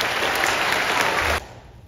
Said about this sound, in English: Outstanding musicians, a round of applause.